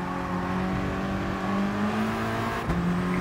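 A race car in Gran Turismo Sport powering out of a chicane, its engine holding a steady, droning whine with a brief dip and shift in pitch near the end, loud and close, no voices.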